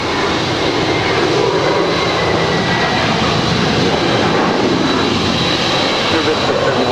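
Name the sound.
JetBlue jet taking off from runway 25 right at LAX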